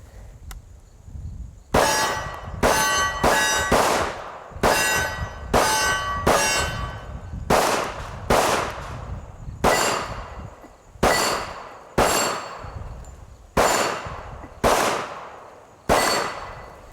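KRISS Vector Gen II SDP pistol in .45 ACP firing at small steel plates: roughly fourteen loud, sharp shots, each answered by a ringing metallic clang, spaced at about one per second, close and without talk.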